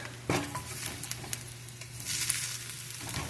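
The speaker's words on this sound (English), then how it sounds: "I'm going to mix these up" Roasted carrots and mixed vegetables are stirred in a pan beside baked cod with lemon, a close scraping and rattling with a soft sizzle underneath and a few clinks, no voices.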